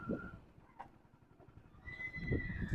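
A horse whinnies nearby at a livestock fair in Jagraon, a shaky high-pitched neigh at the start and another toward the end, with faint outdoor background between.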